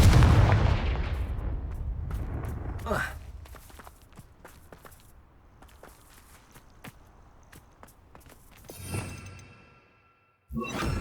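A Confringo fire spell in Hogwarts Legacy hits with a loud, booming blast that fades into a rumbling decay. Scattered footsteps and game effects follow, then a whooshing swell and another sharp burst at the end.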